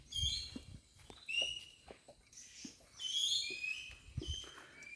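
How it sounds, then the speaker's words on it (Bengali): Birds call in a forested stream valley in the hill tracts, with thin whistled notes and chirps repeating across the stretch, moderately near, over soft footstep rustles and faint background sound. "সবাই পাখির ডাক শুনছে।"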